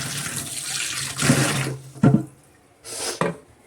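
Tap water runs over lentils being washed in a kitchen, a close splashing stream that comes in several short bursts with brief pauses between them.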